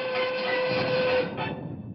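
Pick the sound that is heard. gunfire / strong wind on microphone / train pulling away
train pulling away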